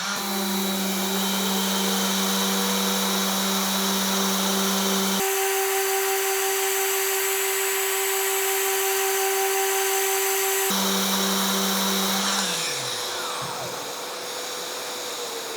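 A Festool ETS random orbital sander works on thin plywood, running as a steady loud whir with a constant hum, its pitch shifting midway and winding down toward the end, with no voices.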